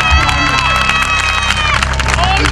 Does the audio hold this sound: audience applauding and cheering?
yes